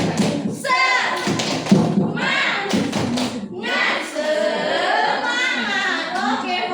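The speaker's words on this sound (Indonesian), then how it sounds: "Tepuk semangat." Group of adults doing the rhythmic spirit clap tepuk semangat in a teacher training session, patterned claps mixed with chanting voices in short bursts.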